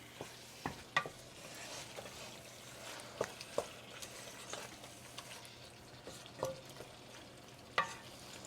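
Tomatoes being stirred and mixed into a dish in a pan, with scattered scraping clicks of a spoon over a faint, steady sizzle; fairly quiet and close, no talking.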